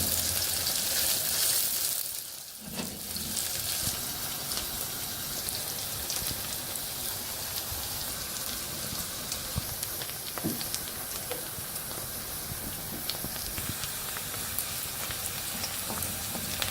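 Onions sizzle in a hot pan for a chicken curry: a steady, close crackling hiss that runs unbroken from start to end.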